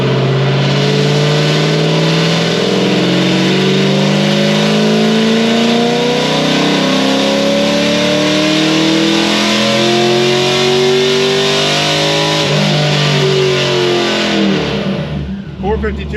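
A car engine fitted with a full cam package revving while warming up, loud and close with rising and falling throttle sweeps over a rough idle, voices faintly underneath.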